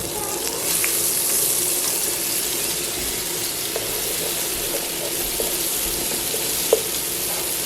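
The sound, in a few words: frying curry powder with corn in a pan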